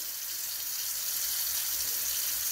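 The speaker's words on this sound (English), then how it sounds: "Just pour that off out of your bowl." Liquid from freshly churned butter being poured out of a bowl into a sink, a steady hissing, splashing flow that runs evenly throughout with no talking.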